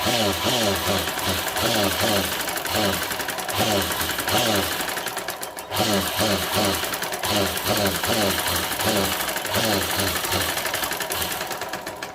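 A sewing machine stitches a sleeve in short repeated bursts of rapid mechanical whirring, close and loud, with pauses between runs.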